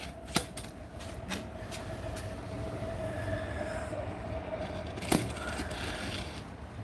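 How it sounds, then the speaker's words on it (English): A passing train rumbles steadily nearby with broadband rail noise, a sustained tonal whine and a couple of sharp clanks, with no talking. "So hopefully you can hear that okay with the train going by."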